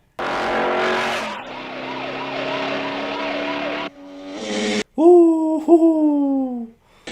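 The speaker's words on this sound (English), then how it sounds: "That car is driving really fast" Film soundtrack from Rambo First Blood (1982): a car races past at speed with a roaring engine, wailing sirens and a squealing skid, ending in a loud, sustained engine whine.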